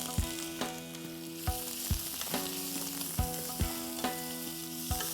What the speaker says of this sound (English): Let's whack the flame on high and add in our sliced red onions.